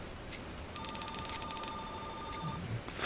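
A telephone rings late at night, a bright trilling ring of one steady burst, heard clearly over a quiet room.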